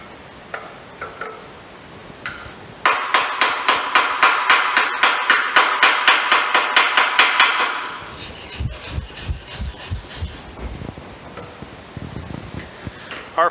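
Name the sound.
hammer breaking arc welds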